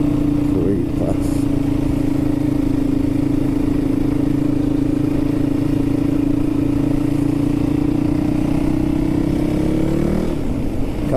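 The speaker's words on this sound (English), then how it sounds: "Can be quite loud, this bike." Yamaha WR450F dirt bike ridden over open moorland, its engine a loud, steady drone held throughout with slight shifts in pitch as the throttle varies, with no talk over it.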